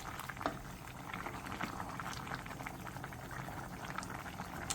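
Soup bubbles steadily in a pot on the stove, a close, even simmer of small popping bubbles that never lets up.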